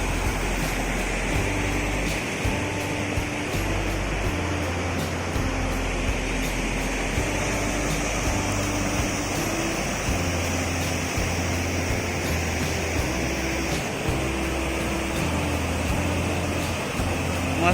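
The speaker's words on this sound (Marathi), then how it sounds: "पुढून पाणी येतं असं डोंगरावरून असं वाहत वाहत वाहत एवढं पाणी इथं वाहतं" A river rushes down from the hills over rocks near a Konkan village, Shringarpur, making a steady, unbroken wash of water noise with a low hum underneath and no break throughout.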